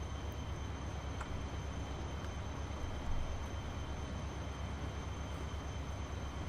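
Trains racing on a Transport Fever railway give off a steady, unbroken mechanical drone with a faint high whine above it, holding at an even level throughout.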